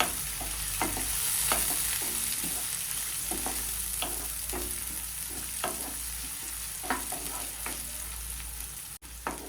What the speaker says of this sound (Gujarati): ટામેટું જ્યાં સુધી સોફ્ટ ન થઈ જાય ત્યાં સુધી તેને તેલમાં સાંતળીશું।